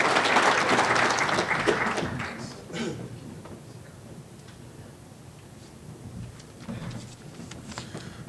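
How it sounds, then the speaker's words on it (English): Awards ceremony audience applauding at a sports awards night, loud clapping for the first two seconds that tapers into scattered, fading claps and near silence, with a brief swell again near the end. "Let's give them a big round of applause."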